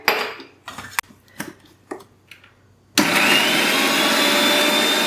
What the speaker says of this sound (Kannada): ಹಾಕೊಂಡಿದ್ದನ್ನು ಚೆನ್ನಾಗಿ ಮಿಕ್ಸಿಲಿ ಗ್ರೈಂಡ್ ಮಾಡ್ತೀನಿ